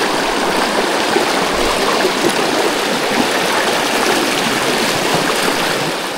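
Deep water flows across a rough trail in Tayabas after heavy rain, a loud, continuous rushing and churning heard up close with no voices.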